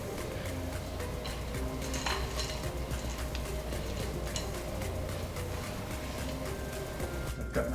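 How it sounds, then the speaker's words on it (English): Chocolate chips being mixed into thick butter cake dough make a soft, continuous scraping and stirring sound close by, with occasional light taps of the utensil against the bowl. "I'm going to sprinkle in the cup of chocolate chips. Mix those in."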